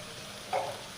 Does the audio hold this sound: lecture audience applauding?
no